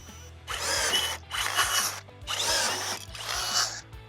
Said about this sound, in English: drill them out with a 3/16 drill bit